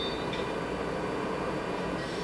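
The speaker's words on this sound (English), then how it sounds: "This is a Bronx-bound 1 local train." A Bronx-bound 1 local train on the New York subway rumbles steadily along the track, a continuous loud roar with faint high wheel squeal near the start and end and no voices.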